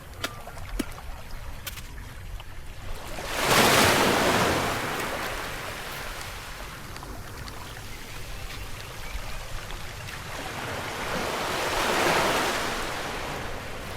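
Sea waves break on a sandy beach in the Philippines; two slow swells of surf rise and fade over a constant wash, with some wind rumble and no voices.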